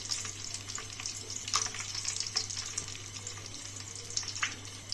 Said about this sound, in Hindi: अब हम एक एक करके इसमें बॉल डाल देंगे और फ्राई कर लेंगे।